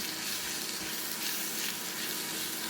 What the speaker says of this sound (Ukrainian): Ну, і так перемішую, щоб воно стало однородною масою.